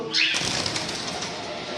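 Chirps from pet birds at a bird stock point in Haldia, including white patchless lovebirds, ring out high and brief at the start, then fade into a steady wash of bird chatter and room noise.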